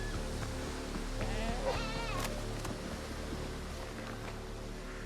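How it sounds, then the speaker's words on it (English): Goats bleating in the Windrose video game near an iron mine, a few wavering calls rising over a steady droning game ambience, with no talking. "There are some boss goats down below."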